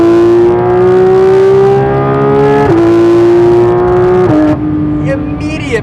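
Porsche 911 GT3 RS naturally aspirated flat-six roaring loud and close under hard acceleration, its pitch climbing steadily through two quick upshifts before easing off, with a voice talking faintly beneath the engine.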